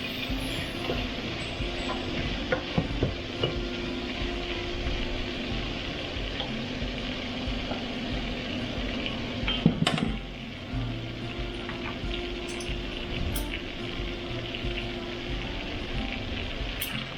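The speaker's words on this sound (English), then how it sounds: "Stir that around again." Food sizzles softly in a pan while a utensil stirs and scrapes, with a few sharper clanks partway through, low and steady with no talk.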